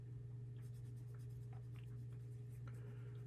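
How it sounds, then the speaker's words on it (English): The side of a pencil scratches back and forth across paper while shading a cartoon drawing, soft dry strokes in an uneven rhythm, close and faint over a steady low electrical hum. "I'm using the side of my pencil"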